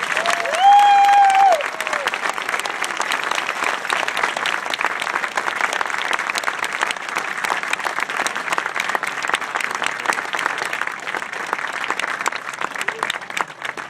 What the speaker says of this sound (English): Can we get another round of applause, please?